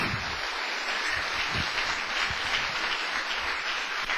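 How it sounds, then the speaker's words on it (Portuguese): A church congregation claps for the Lord in sustained, dense applause that fills the room evenly from start to finish, with no voices standing out. "Agora tu pode dar uma salva de palmas para o Senhor."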